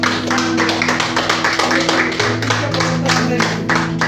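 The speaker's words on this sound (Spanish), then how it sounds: "Un aplauso al Señor eso." A congregation claps rhythmically at a church service, dense hand claps layered over sustained organ-like tones, loud and close for several seconds.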